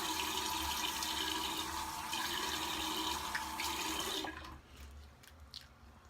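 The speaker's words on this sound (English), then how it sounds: "what I like to do at this point is just rinse it off and feel my face" Running water splashes steadily from a tap during a straight-razor shave as a face is rinsed, a close, continuous wash that cuts off abruptly near the end, leaving quieter drips and small sounds.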